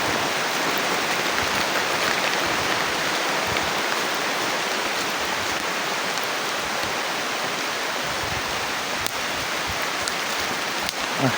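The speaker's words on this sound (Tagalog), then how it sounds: "sobrang lakas talaga ng ulan" Heavy rain pours steadily in a dense, continuous hiss with no pauses, loud and close, with no voices.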